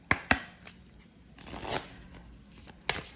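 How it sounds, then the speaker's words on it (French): Oracle cards being shuffled by hand, sharp riffling snaps and soft slides in short bursts with quiet gaps between. "Donc je vais mélanger les cartes."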